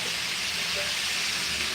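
Water poured into a hot pan of sizzling chicken meat for dumplings, giving a steady broad hiss and sputter that holds evenly throughout, close and fairly loud.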